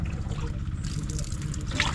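Water splashing and trickling as it is poured out to be replaced at a farm hut, a soft, close, continuous dribble over a low rhythmic hum, with brief splashier bursts toward the end.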